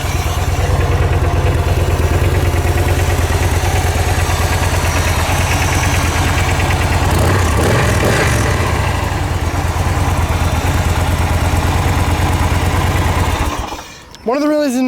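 A 2011 Victory Cross Roads motorcycle idles close by with a steady, loud, even rumble that holds for about fourteen seconds and then cuts off abruptly near the end.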